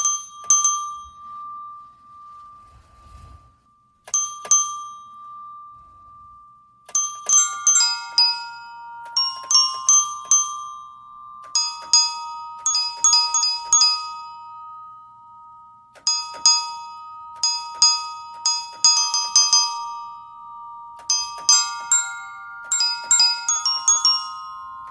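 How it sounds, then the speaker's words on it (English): A keyboard driven by a Christmas tree's sensors plays a wonky Jingle Bells: clear, bell-like electronic notes in uneven clusters over a steady sustained tone, with irregular pauses between phrases and no talk. "So you do get this wonky version of Jingle Bells as played by a Christmas tree."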